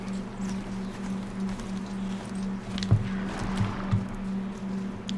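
Horse hooves clip-clop rhythmically in the video game Horizon Zero Dawn over a steady low hum, with a few sharper thumps standing out; no voices.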